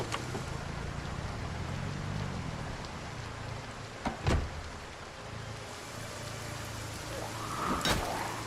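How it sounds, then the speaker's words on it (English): Heavy rain pours down in the video game Project Zomboid, a steady broadband hiss with a couple of sharp, brief impacts over it. "Even though it's like pouring down rain out here."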